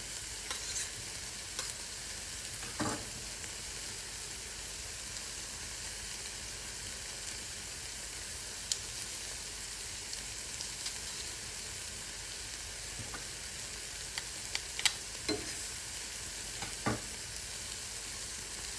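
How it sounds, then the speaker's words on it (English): Pressed garlic sizzling in a frying pan, a continuous even hiss of frying with a few soft scrapes of stirring, heard alone and fairly quiet. "We're not going to cook this for too much longer because garlic will burn real quick."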